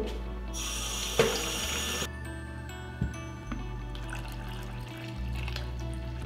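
Tap water runs steadily into a sink while black-and-white film developer is mixed, a continuous close hiss with a few brief clunks and shifts in flow.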